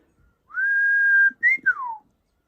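A person whistles an imitation of a bush warbler's song in an orchard: a long steady note, then a quick upward flick and a falling slurred phrase.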